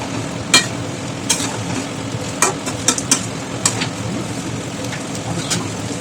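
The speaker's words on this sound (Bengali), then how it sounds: "এইবার আমরা এটাকে ভালো করে নাড়ব" Butter chicken masala stirred in a pan, a constant sizzle under repeated scraping and clacking strokes of a spoon against the metal, fairly close and loud.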